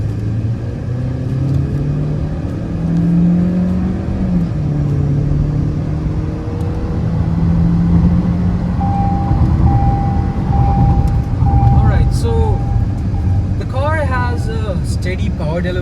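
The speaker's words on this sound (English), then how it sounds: "I'm going to put the car in sport mode and see how it really performs. 30 to 100 acceleration." Jetour X70 Plus seven-seater SUV accelerating hard in sport mode from 30 to 100, a steady rising engine drone and road rumble from inside the cabin, with a person talking over it.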